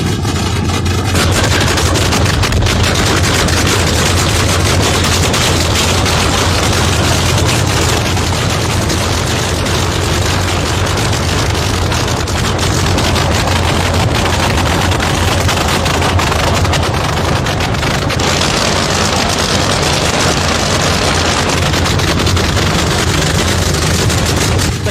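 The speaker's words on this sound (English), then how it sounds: "Nothing in motorsports is as violent as the launch of a nitro funny car." Nitro funny car drag racing engines launch with a loud, sustained, crackling roar that fills the whole stretch and sounds almost like rapid gunfire.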